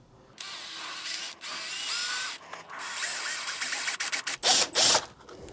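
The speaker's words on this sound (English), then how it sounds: "Now we can get our 5/16 drill bit." A power drill fitted with a 5/16 drill bit bores a hole in a headlight housing during a budget headlight retrofit on a third-generation Toyota 4Runner. The whirring comes up close and loud in several bursts, and the last ones are short stop-start pulses.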